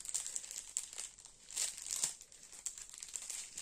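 Close, quiet crinkling of plastic packaging being pulled open in short, irregular rustling bursts, with no talking.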